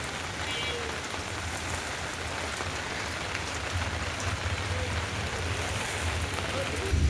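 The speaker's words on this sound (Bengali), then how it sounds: "বাইরে বৃষ্টি চলছে" Steady rain falls outside near a bus stand in Shyamnagar, a continuous even hiss of drops on surfaces with a low rumble beneath, holding constant throughout with no clear voices.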